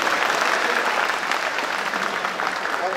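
An audience at an Eid Milan gathering and welcome mushaira claps steadily after being urged to cheer a young boy's courage, the applause broad and sustained throughout.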